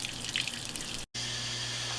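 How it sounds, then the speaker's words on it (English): A garden hose runs outside and is heard faintly from an indoor room as a soft, steady water hiss with light splashing, briefly interrupted by a short silent gap midway. "Ignore the sound of the hose outside."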